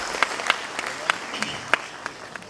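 Scattered audience applause at a school of planning and architecture convocation ceremony: a handful of sharp, separate claps rising out of a quiet hall, fairly faint and sparse rather than a full ovation.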